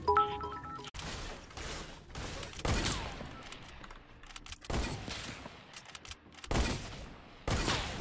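Gunfire in the Fortnite video game, several loud bursts of shots and crashes separated by brief lulls, close and punchy, with no talk over them.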